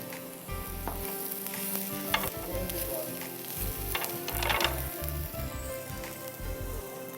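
Steady sizzling of onion, ginger and garlic frying in a hot pan, with occasional louder crackles and stirring scrapes throughout, close up and without talk.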